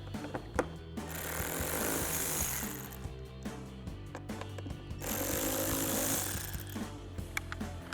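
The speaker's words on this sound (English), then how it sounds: "we'll take a T20 Torx socket to remove the three Torx bolts that are holding in our fog lights." A T20 Torx socket on a ratchet or driver backing out fog light bolts on a Jeep Gladiator JT bumper: close, gritty mechanical whirring in two sustained stretches, with scattered ticks and clicks between them.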